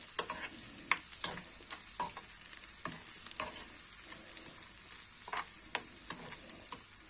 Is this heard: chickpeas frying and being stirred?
yes